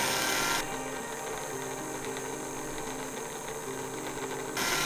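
Small slot car electric motor spinning the wheels on a rolling road test rig, a steady whirring hum with faint gear whine held at constant speed, fairly near and alone.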